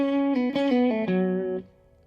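Lead guitar riff: a run of clean, sustained picked notes stepping down to a lower octave, played alone and close, ringing out briefly at the end.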